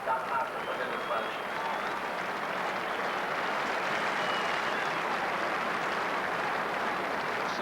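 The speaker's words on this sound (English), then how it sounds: "So the round of applause for Dennis Walsh as he makes his way off" A big crowd at a 1985 Limerick versus Cork hurling match applauds Cork's Dennis Walsh as he is substituted and leaves the field. The dense, steady roar of clapping and crowd noise carries on at an even level throughout.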